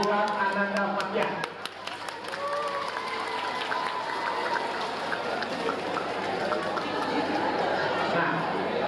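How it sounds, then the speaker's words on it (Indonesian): Audience applause at an Indonesian government talk show on vocational programs, a sustained wash of clapping from a crowd with chatter mixed in, steady and moderately loud. "Tepuk tangan buat Ananda Fathia."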